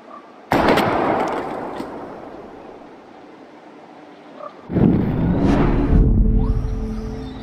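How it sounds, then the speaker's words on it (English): Two loud gunshots from a game pistol fired at bottles in Life is Strange, the first sharp report at the start and a second heavier blast later, each followed by a long ringing tail, with no talk. "We're gonna shoot all these bottles without wasting a single bullet."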